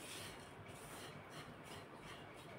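Grated coconut is stirred in a pan over medium heat, a faint, continuous scraping rustle with soft rhythmic swells as the spoon sweeps through, with no voices.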